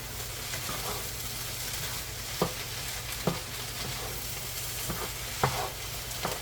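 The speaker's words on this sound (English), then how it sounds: "So let's mix these eggs in" Eggs being stirred into lumberjack hash in a hot pan, a steady frying sizzle with a few sharp scrapes of the utensil at irregular moments, close up and with no talking.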